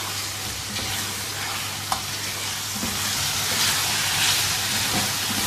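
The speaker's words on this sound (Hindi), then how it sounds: "ये इसमें शामिल कर देंगे और इसको 3-4 मिनट अच्छी तरह से भून लेंगे" Chicken pieces sizzle and fry steadily in hot oil in a karahi for black pepper chicken, a continuous loud crackling hiss with a faint low hum beneath it and no voices.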